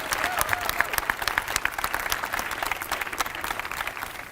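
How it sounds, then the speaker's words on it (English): An audience gives the stage party at a school cricket trophy presentation a round of applause. Many hands clap at once in a dense, steady wash that carries on without pause. "Could we get a round of applause for our stage party"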